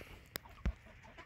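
Chickens on a farm, a hen with chicks in the flock, giving a couple of brief, faint clucks against quiet outdoor background.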